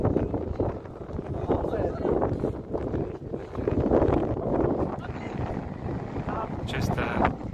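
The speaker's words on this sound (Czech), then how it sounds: "Ten větr to dělá, víš? On pomáhá tomu balonu." Wind gusts across an outdoor football pitch during a youth match, producing a steady rough rumble and buffeting against the microphone that swells and eases throughout, with voices talking over it.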